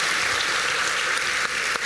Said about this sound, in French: Magnifique, on peut applaudir.